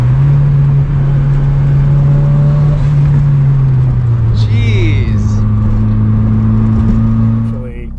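A 1970 Datsun 240Z with a swapped SR20DET engine drones loudly and steadily up close, its pitch holding then dropping slightly as it eases off, with a brief whine near the end.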